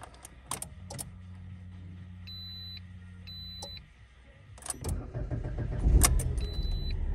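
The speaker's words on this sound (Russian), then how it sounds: "Давайте запустим двигатель." A 2013 Lada Kalina with an automatic gearbox and 117,000 km: keys jangle and dashboard chimes beep before the engine cranks, catches and settles into a steady idle, close by.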